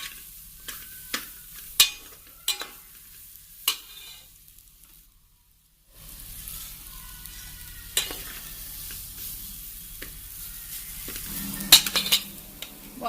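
Broccoli and drumstick curry is stirred and fried in a pan, with a soft sizzle beneath scattered scrapes and clinks of a spoon against the pan, fairly quiet and close.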